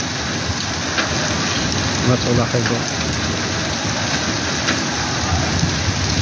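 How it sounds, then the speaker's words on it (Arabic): A thunderstorm with rain and hail pours down in Taza during the afternoon as a loud, dense, steady roar that fills the whole clip. A voice speaks briefly underneath. "عاصفة ممتازة"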